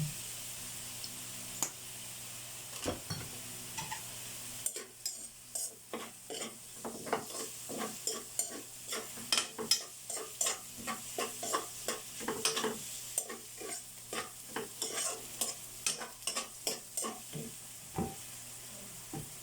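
Hotdogs sizzle and spit in a small amount of cooking oil in a pan, with repeated scraping and stirring strokes from a utensil making clicks and rasps over the steady frying hiss, no voices.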